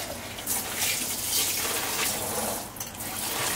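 Hot water gushing steadily from a kitchen tap into a sink, a continuous close hiss of running water with no talk.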